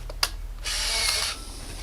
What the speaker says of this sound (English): That's the sound of the camera.